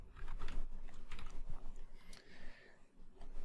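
Rapid computer keyboard typing as a business name is entered for a local search tool, a steady run of close, crisp key clicks with no talking.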